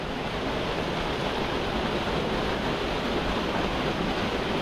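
Waterfall on a river pool at Río de la Miel, a steady, dense roar of falling and churning water, loud and continuous throughout with no voices.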